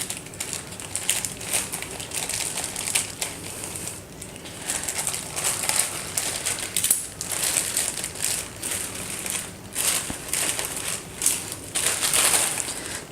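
Plastic carry bag holding a Boya lavalier microphone box being cut and torn open, a steady close rustle and crinkle of packaging with crunchy bursts, no voices.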